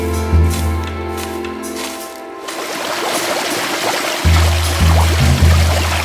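Water at the Thankowain waterfall in Alikadam, Bandarban, rushes in a steady broadband wash that grows fuller partway through, with a few low thumps near the end.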